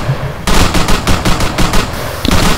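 Rapid automatic gunfire in the military video game Arma III: loud, close bursts of shots in quick succession with no break.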